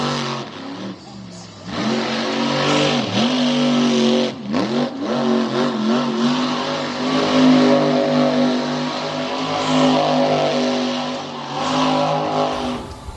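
A race truck engine roars and revs continuously on a speedway front stretch, loud and close, with pitch sweeps as it accelerates and backs off, under steady commentary.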